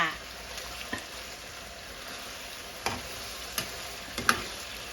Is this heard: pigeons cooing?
no